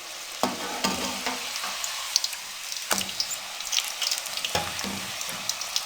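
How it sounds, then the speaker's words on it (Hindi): Puris deep-frying in very hot cooking oil for halwa puri: a steady, close bubbling sizzle with crackling pops, broken by a few sharper bursts of spattering as the dough is moved in the oil. "जितने ज़्यादा गर्म कुकिंग ऑयल में आप फ्राई करेंगे उतनी ही अच्छी आपकी पूरी फ्राई होगी।"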